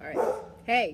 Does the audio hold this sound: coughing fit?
no